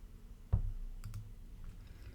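A single sharp computer mouse click, close and distinct, followed by a couple of fainter clicks in a quiet room with no talk.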